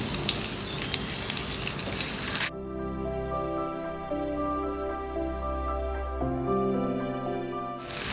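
Green chillies, curry leaves and cooked rice frying in a pan: a loud crackling sizzle for the first two and a half seconds, then a quieter stretch of tonal hum before the sizzle returns at the very end.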